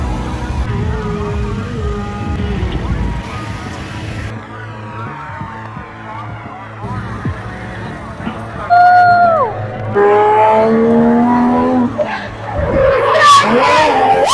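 Cars drifting at a drift tournament in Blagoveshchensk, with loud skidding and squealing tires rising and falling over engine roar, close by, amid crowd babble and voices.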